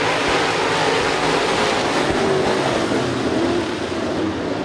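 Late model race cars accelerating off the green flag at US 30 Speedway, a loud dense roar of many engines blended into a continuous rumbling wash, steady and without talk.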